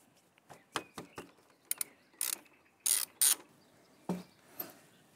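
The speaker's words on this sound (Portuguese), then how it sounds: "Agora remover esse parafuso utilizando uma chave de boca número 12." A size 12 open-end wrench loosens a bolt while a braided steel hose is being installed, giving a series of quick metallic clicks and scrapes, close and fairly loud, in irregular bursts.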